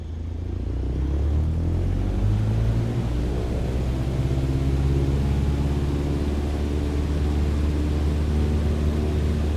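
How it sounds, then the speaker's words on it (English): A small airplane engine runs at full takeoff power in Microsoft Flight Simulator, holding a loud, steady droning roar with a deep rumble that barely changes from start to finish. "Apply full power and I'll walk you through the takeoff as we go."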